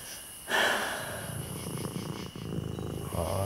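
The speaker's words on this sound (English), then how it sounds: "Oh, I love that purr." A cat purrs close by in a quiet room at night, a soft rhythmic rumbling that starts abruptly and continues steadily with gentle breathy pulses, with no one talking.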